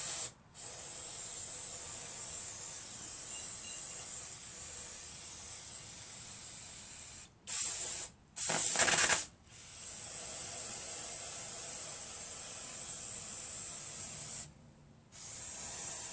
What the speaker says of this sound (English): I think brake parts cleaner is better for all this stuff